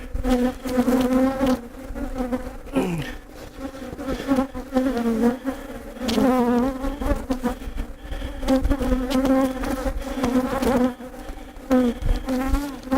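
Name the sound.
honeybees buzzing in open healthy hive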